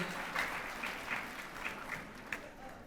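A graduation audience at a high school ceremony applauds school board members, steady moderate clapping throughout, heard from within the hall.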